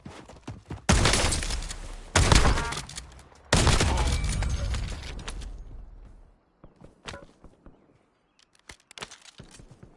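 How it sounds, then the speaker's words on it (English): Heavy video-game gunfire in three loud dense bursts of rapid shots over the first six seconds, close and sustained, followed by sparse faint clicks and scattered single reports. "Taking effective fire!"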